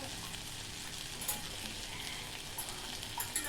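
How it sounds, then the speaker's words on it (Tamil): A metal whisk beats eggs for egg bhurji with a soft, continuous swishing and scraping. Faint clicks against the bowl come every so often, quiet and close, with no talk. "நான் எக்கு விஸ்கர் வச்சுருக்கேன். அதை வச்சு நல்லா மிக்ஸ் பண்ணிக்கலாம்."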